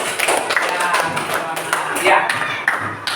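A classroom of students clapping for classmates after a group discussion, with bursts of applause mixed with voices talking over it, moderately close and uneven.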